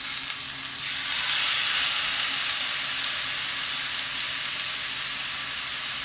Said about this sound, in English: you just want to sear it